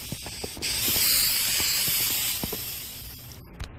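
A sustained aerosol insecticide spray, aimed into cracks, hisses steadily for about three seconds, close up, framed by a few soft clicks and taps before and after; from an animated TV show.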